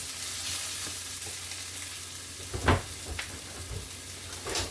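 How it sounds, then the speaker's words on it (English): Thyme and onion sautéing in a pan give a steady close sizzle and hiss, broken by a couple of louder stirring scrapes. "your thyme, your onion, and you saute them"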